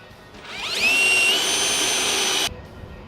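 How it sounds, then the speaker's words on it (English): A power drill drilling a pilot hole whirs up to speed with a rising whine, runs steadily for under two seconds, then cuts off abruptly. "pilot drill that hole"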